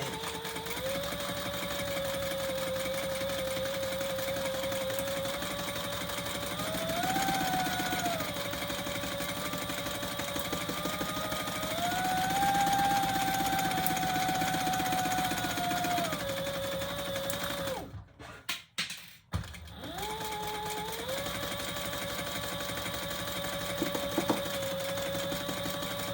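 A sewing machine stitches a leather retro-style sling bag, running in a long steady whir whose pitch rises and falls with speed, close and loud, then stops briefly with a few clunks before starting again.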